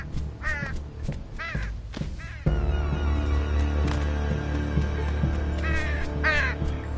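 Crows caw repeatedly in the video game Unravel, harsh calls coming in short bursts over a steady game soundtrack, with a louder ambient layer entering partway through.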